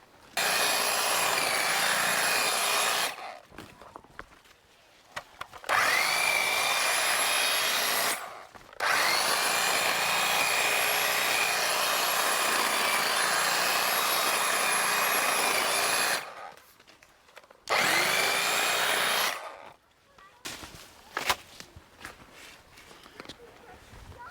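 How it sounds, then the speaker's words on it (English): A corded electric hedge trimmer cuts back vines in long continuous buzzing bursts, several stretches of steady high whine separated by brief pauses, close and loud. "by far the easiest and quickest way to do that is with a hedge trimmer"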